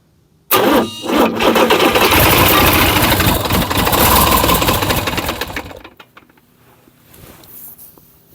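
A Ford DT360 diesel engine, freshly swapped into a Ford dentside crew cab truck, catches almost instantly and runs loud and rough up close for about five seconds before dropping to a quieter idle.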